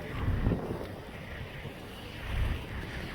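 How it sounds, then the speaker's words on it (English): Gusty wind buffets the microphone outdoors beside a 2009 Volvo S80, a low rumbling roar that swells and eases in two surges. "It's a bit windy out here."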